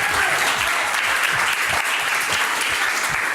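Loud, continuous clapping from a studio audience on a French television talent show, dense and sustained throughout with no break.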